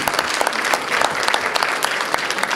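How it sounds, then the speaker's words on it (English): Audience at a magic and mentalism show clapping for a volunteer, a brisk, dense burst of many hands at steady volume, briefly filling the room. "Give Gail a nice round of applause"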